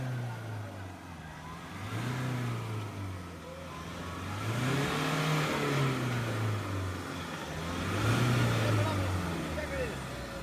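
A car engine revving hard while stuck on a muddy monsoon road to a tea estate, repeated surging rises and falls over a rough background, with people talking over it.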